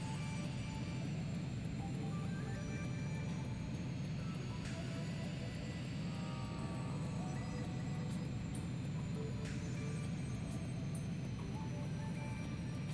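Fighter jet engine in the video game Ace Combat 3 Electrosphere, a steady broad roar sustained throughout with occasional sharper tonal swells, heard beneath someone talking.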